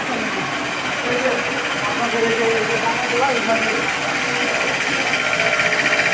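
A plastic recycling pellet-making machine, fed with shredded plastic from a cutting machine, runs with a loud, steady mechanical drone and rattling hum that stays even throughout, with someone talking over it.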